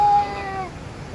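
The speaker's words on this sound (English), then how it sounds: "Oh, look at that cat." An ocelot behind glass at an aquarium and rainforest exhibit gives a single short, clear meow-like call that trails off, heard alone against faint background hum.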